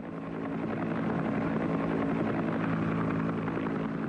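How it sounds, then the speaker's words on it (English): A medevac helicopter in the Vietnam War: a steady, droning rotor and engine hum that swells in over the first half second, then holds constant and fairly distant, with no other sound. "a wounded man could expect to be picked up by medevac helicopter in less than half an hour."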